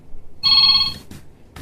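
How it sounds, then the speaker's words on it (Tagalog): A cellphone rings with a bright electronic tone, one sustained burst followed by two short bursts, close and loud with no talk over it. "Adaw mauawag iti cellphone ko."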